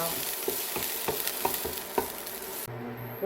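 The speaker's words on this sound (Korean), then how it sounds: "이렇게 뿌려준 다음 새우가 익을 때까지 볶아줄 거예요." Shrimp seasoned with pepper stir-fried in a pan, a steady close sizzle and crackle with several sharp scrapes of stirring spaced through it, before a sudden quieter change near the end.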